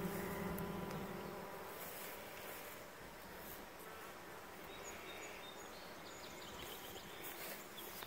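Honey bees buzz steadily around hive frames holding stored pollen and honey, a dense, continuous drone that stays close and fairly faint throughout, with no voices.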